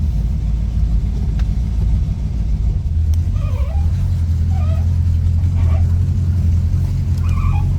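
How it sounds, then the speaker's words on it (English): A 1965 Ford Mustang coupe with a 289 V8 and automatic transmission drives along, its engine giving a continuous loud rumble from inside the car, with faint brief voices over it. "Go for a spin. All right, let's go for a ride."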